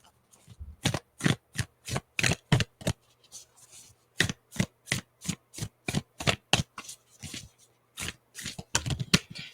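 A deck of playing cards is shuffled repeatedly, giving loud, sharp riffling bursts in a rapid rhythm with a short pause midway, close up and with no talking.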